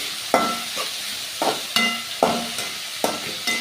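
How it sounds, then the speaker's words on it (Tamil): Salt and turmeric being stirred into frying food in a pan for chapati noodles, a steady low sizzle broken by regular scraping stirs, about six spoon strokes at an even rhythm, close and moderately quiet. "உப்பு கொஞ்சம், மஞ்சள் கொஞ்சம். இப்போ நல்லா கிண்டிக்கலாம்."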